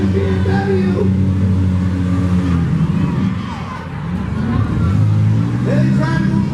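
A demolition derby car spins its rear tires, engine roaring loudly and continuously with revving swells amid crowd babble and an arena announcer.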